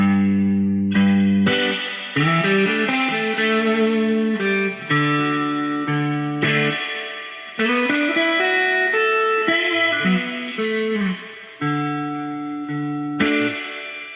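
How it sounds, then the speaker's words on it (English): An electric guitar through an Oceans 11 reverb pedal, spring setting with time at maximum, plays a melodic phrase drenched in reverb, notes ringing out with a springy, shuddering, shimmering decay between loud attacks. "kind of a springy, shuddering sound there with the time all the way up"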